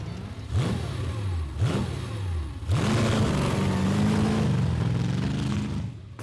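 A quad bike engine on slippery mud blips twice in short rising revs, then holds a long, strained, loud rev for several seconds before easing off, with no voices.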